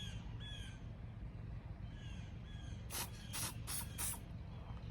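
An aerosol spray can hisses in four short, loud bursts toward the end, used while fitting a custom badge on a 2019 Ram 1500, with a steady low background hum throughout.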